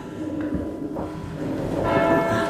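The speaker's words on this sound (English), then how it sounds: "That's the toll bell." A church toll bell rings in a steeple, with resonant strokes and a sustained ringing tone that swells toward the end amid a slightly noisy, roomy background.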